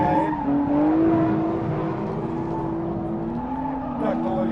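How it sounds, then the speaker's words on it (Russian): Toyota Chaser and BMW drifting in tandem, tires squealing in long sustained tones over revving engines, with a voice commentating over the noise. "Чайзер едет первым, БМВ по узенькой такой траектории"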